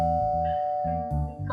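A household doorbell rings with a few bright two-tone chimes, clear and near, inside a home with no talking over it.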